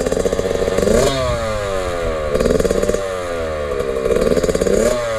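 A Yamaha 65 YZ motorbike engine runs continuously and close by, its revs climbing and falling in repeated waves as the bike pulls away.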